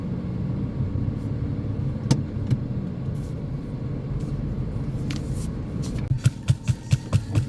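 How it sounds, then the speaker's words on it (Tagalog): A car engine starts and runs at a steady low rumble inside a vehicle, with faint clicks and knocks, and a rhythmic series of thuds near the end. "Start muna tayo guys ng sasakyan"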